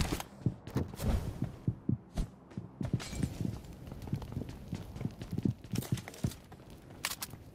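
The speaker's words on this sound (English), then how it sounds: "I hear the footsteps" Rhythmic footsteps from a player character in an apartment-building shootout in a video game, a steady run of thuds close by with a few sharper clicks and noise bursts mixed in.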